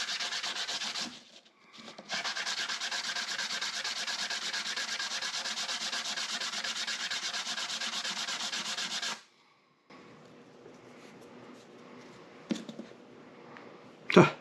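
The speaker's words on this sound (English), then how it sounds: "let's just give it a little bit of sanding so we can get that fit right into that groove" Steady, even hand sanding of a custom ring with a rasping rub for several seconds, a brief pause, then quieter scraping and a few small knocks.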